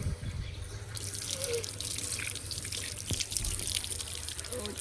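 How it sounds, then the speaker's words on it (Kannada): Water splashes and runs steadily as it is poured over feet outside a temple, a close, continuous gush and trickle with faint background hum. "ಇಲ್ಲಿ ಕಾಲಿಗೆಲ್ಲ ನೀರು ಹಾಕ್ಕೊಂಡು, ತಲೆಗೆ ಸ್ವಲ್ಪ ನೀರು ಹಾಕ್ಕೊಂಡು ದೇವಸ್ಥಾನದೊಳಗೆ ಹೋಗೋದು"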